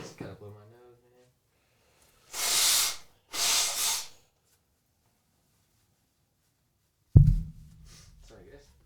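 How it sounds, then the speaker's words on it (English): Two forceful, hissy nose blows into a tissue in quick succession, with a short voice before and a thud and brief talk after. "Just gotta blow my nose, man."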